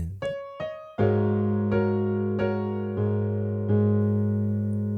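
Piano playing both hands through the first measure of a song: several struck chords and notes in a steady beat, each ringing and decaying, played alone without talk.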